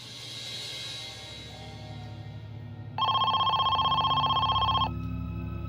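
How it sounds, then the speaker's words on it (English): A telephone rings with a bright, steady electronic trill lasting about two seconds in the middle of the stretch, loud against a low background hum, with no talk over it. "They hoped this would be the call that could secure Amy's release"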